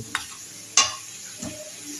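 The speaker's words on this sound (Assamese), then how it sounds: "মাংসটো অলপমান ভাজি লওঁ।" Meat and onions fry in a pan, giving a low, steady sizzle. Three distinct scraping stirs break it, the middle one the loudest.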